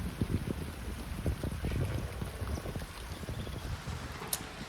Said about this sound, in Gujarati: વાવાઝોડું